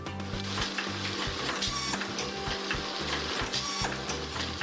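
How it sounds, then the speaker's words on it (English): A candy mogul machine stamping bean-shaped cavities into trays of dry cornstarch while a depositor fills each one, making a dense, steady mechanical clatter with rapid rhythmic thumps throughout, loud and close. "a mogul, a machine that stamps hundreds of bean-shaped cavities into trays of dry cornstarch"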